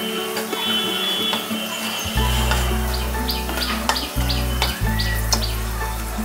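White cumin and dried red chili frying in mustard oil in a pan make a light, crackling sizzle, partly masked by a loud, steady low hum and occasional bird chirps nearby.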